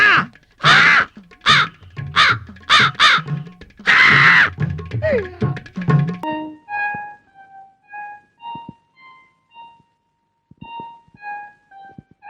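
Harsh, comic crow caws come in rapid loud bursts, then give way to sparse, thin tonal notes with quiet gaps between them.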